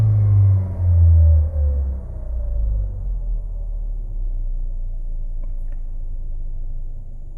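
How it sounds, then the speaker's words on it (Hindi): A Mahindra XUV700 engine rumbles close by, with a heavy low surge in the first couple of seconds that settles into a steady idle drone. "ये जैसे ही मैं अभी रेस दे रहा हूँ"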